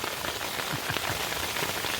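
Hail and rain fall on a Sierra Designs Clip Flashlight 2 tent during a thunderstorm, giving a steady, dense patter of drops with scattered sharper hits throughout.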